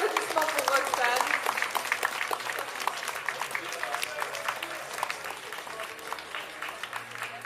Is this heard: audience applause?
yes